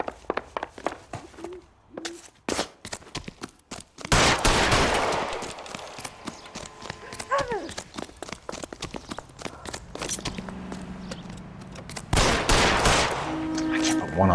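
Bursts of gunfire in the LA Noire crime game, scattered shots early then a heavy volley around the middle and another near the end, with footsteps and game sounds mixed in.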